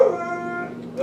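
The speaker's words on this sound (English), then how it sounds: "I'm so sorry about the dog." A dog gives a drawn-out whimpering whine, tonal and fairly close, fading near the end with a brief yip.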